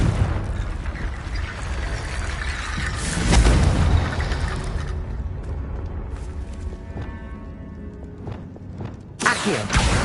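A Confringo blasting spell explodes in Hogwarts Legacy with a loud booming burst, followed by rumbling game effects and a second sharp impact near the end.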